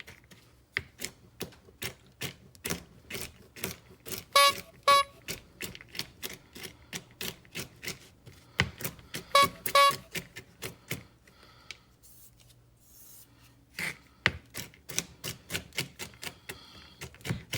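A knife chopping a quarter cup of pecans on a cutting board: quick, crisp taps in irregular bursts, close and fairly quiet, with brief pauses between runs of cuts.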